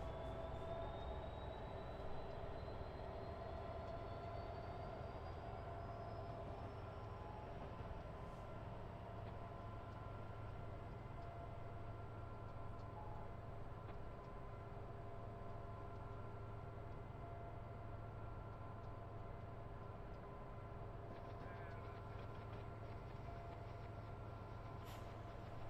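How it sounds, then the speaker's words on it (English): A freight train climbs Sullivan's Curve on Cajon Pass, a continuous low rumble of engines and wagons with faint squeals, heard steadily and fairly quietly for the whole stretch. "The train continues its journey."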